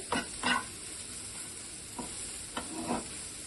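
Masala with softening tomatoes sautés over low heat for stuffed bitter gourd, a quiet steady sizzle broken by several soft spoon scrapes and stirs against the pan.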